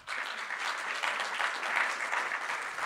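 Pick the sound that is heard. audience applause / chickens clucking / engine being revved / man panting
audience applause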